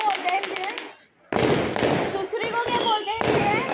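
Sharp crackling bursts of Diwali firecrackers popping in rapid clusters, loud and close, with voices mixed in under the noise and a brief lull near the start.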